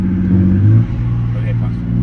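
A Toyota A90 Supra fitted with an upgraded Stage 2 transmission and billet converter rumbles steadily as it snaps into gear, a close, loud engine drone with a brief surge in revs.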